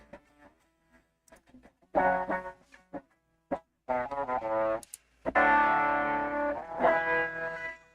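Electric guitar through a TubeScreamer 808 overdrive pedal, with a few scattered picked notes followed by sustained, driven chords ringing out alone.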